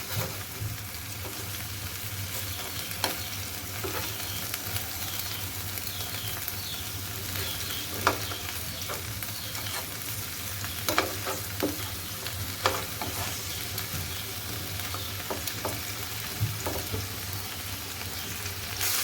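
Chicken on bamboo skewers fries in a pan with a constant close sizzle and crackle, while occasional knocks and scrapes mark the pieces being turned over.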